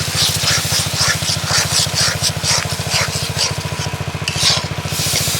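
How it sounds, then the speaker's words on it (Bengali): A tractor ploughs a nearby farm field with a steady, rapid low chugging that runs throughout, overlaid by repeated close scraping and stirring sounds from cooking in a pan. "মাঠে হাল হচ্ছে চাষের জমিতে, তাই হয়তো আওয়াজটা একটু শুনতে অসুবিধা হতে পারে আপনাদের"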